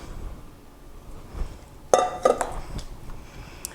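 Warm pastry cream being spread and stirred in a dish set over ice packs, heard as faint scraping followed by a short burst of clinks and knocks from utensil against the dish, with quiet room noise on either side.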